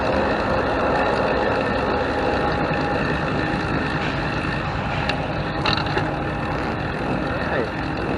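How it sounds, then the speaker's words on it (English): A train engine passes along tracks beside a roadside bike ride near Sinton, making a steady, loud rumble that fills the whole stretch without letup. "There's a train coming. Train tracks are behind me."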